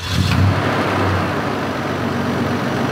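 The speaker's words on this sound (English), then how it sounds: "We'll start it up." A 1996 Toyota Tundra V8 pickup with 236,000 miles starts with a brief crank and settles into a steady, close, low engine rumble that holds at an even level throughout.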